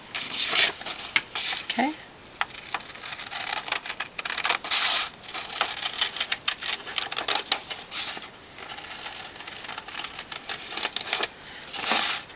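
Scissors snipping and crunching through silk fabric cut out for an eye mask, close and steady with bursts of rapid cuts and brief pauses, a short spoken word in between.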